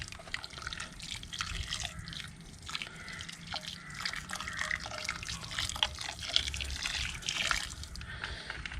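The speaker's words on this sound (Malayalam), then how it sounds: "ഈ ചൂടുവെള്ളം ഒഴിച്ച് ഇതൊന്ന് ഒന്നുകൂടെ ഒന്ന് കഴുകിയിട്ട്" Hot water is poured over raw chicken pieces in a bowl and stirred, giving a steady close splashing and trickling wash of water with faint clinks, without any talking.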